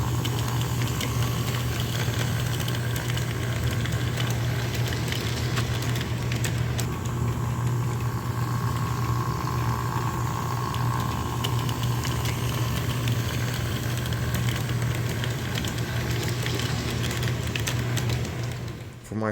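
A Lionel O-gauge model train locomotive runs continuously, giving a steady mechanical whir and a low electric hum that hold constant for the whole stretch without talk.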